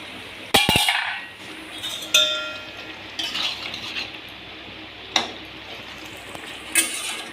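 A metal lid goes onto a cooking pot on the stove: several sharp, close clinks and clangs spaced through the moment, with soft stirring and light sizzle between them and no voices.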